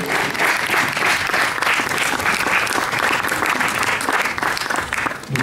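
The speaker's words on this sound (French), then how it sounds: "vous pouvez les applaudir pour leur travail" A hall audience claps steadily and loudly at a sports inclusion medal ceremony in Chanteloup-les-Vignes, a dense, continuous wash of many hands lasting several seconds without pause.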